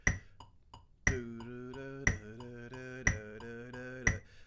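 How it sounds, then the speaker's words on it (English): Four strong metronome clicks land once a second at 60 bpm, each followed by softer ticks dividing the beat into triplets, with a sustained tone ringing underneath. "I've got my metronome set at 60 beats per minute"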